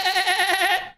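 A single loud, wavering goat bleat close by, lasting about a second before cutting off.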